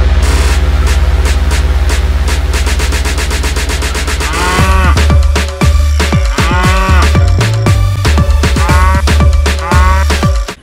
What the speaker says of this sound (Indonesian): Ini sapi teman-teman.